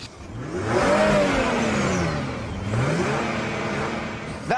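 A full-size radio-controlled car revs its engine loudly and close by, the pitch rising and falling in two long sweeps with no talk over it.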